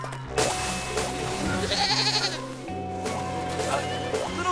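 A cartoon goat on an icy hiking trail gives a loud, wavering bleat amid other busy animated sounds, with a brief strained cry midway.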